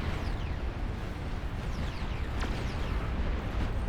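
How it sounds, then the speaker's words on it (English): Projectiles from a giant unit striking energy shields in a huge real-time strategy game, a dense continuous rumbling barrage of impacts and bursts layered with faint descending whooshes. "The projectiles of the Calamity are punching through."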